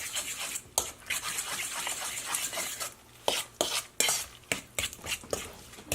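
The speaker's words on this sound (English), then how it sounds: "Then I stir this all in, beat it all up." Eggs and a salmon patty mixture are beaten and stirred in a bowl, with irregular, close scraping and clinking strokes that come in uneven bursts and brief pauses; no talking.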